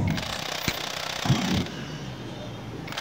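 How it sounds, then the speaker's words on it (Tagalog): An impact wrench drives a 36mm socket onto the nut of a Honda Click scooter's clutch assembly, a steady rattling hammer with a few heavier bursts, close and loud, with no talking. "So gamitan nyo lang ng impact wrench"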